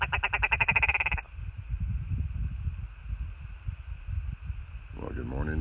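Ptarmigan calling in the Alaskan mountains at Hatcher Pass, a rapid series of harsh, croaking, rattling notes close by for about a second, then quiet outdoor air and breathing before another call begins at the end.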